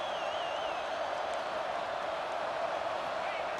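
Stadium crowd roars in a steady, dense wall of noise at a snowy football playoff game, continuous and loud throughout with no breaks.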